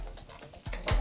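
A Black Angus burger patty frying on a teppanyaki grill gives a brief close sizzle with a quick scrape toward the end, with no talking.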